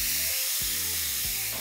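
Carne asada meat sizzles steadily on a hot comal, a loud, continuous close-up hiss with no talking.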